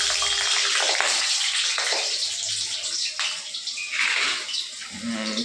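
Potatoes fry in hot oil for a chicken dish, a loud, steady sizzle that crackles on without a break and with no talk over it.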